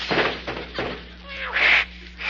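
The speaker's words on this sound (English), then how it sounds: "Clem, is there any way of stopping that cat out there on the fence?" A cat meows several times in bursts, loud and close, with a longer drawn-out yowl near the end.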